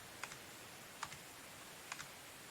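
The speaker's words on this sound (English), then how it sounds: "you can probably hear the keyboard clicking" A computer keyboard clicking during play of the video game Medieval Dynasty: three faint, crisp keypress clicks spaced about a second apart, each with a quick double tap, over a steady hiss.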